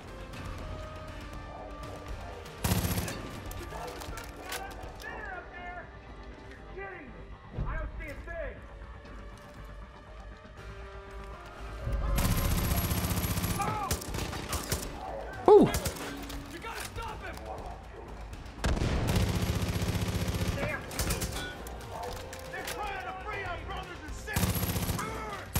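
Gunfire in Far Cry 5 during an escape with plenty of weapons: bursts of shots and crashes break out in several loud clusters between quieter stretches of game sound and music.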